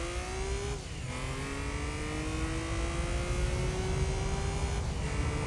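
A race car in the Gran Turismo 3 racing game accelerates at full throttle, its engine whine climbing steadily in pitch and dropping briefly at gear shifts, loud and continuous with no talk.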